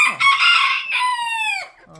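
A pheasant-chicken rooster crows alone at close range, one full drawn-out call of about two seconds with a bright, harmonic, strained tone that slides down at the end.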